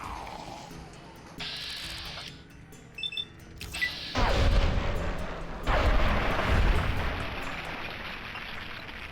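Rockets fire in the game Fallout: New Vegas, with a low rumbling ambience followed by two heavy booming blasts that roll out over several seconds.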